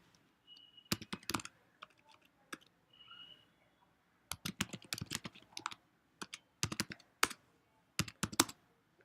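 Computer keyboard being typed on in short bursts of sharp, close key clicks separated by brief silences, entering commands, with no talking.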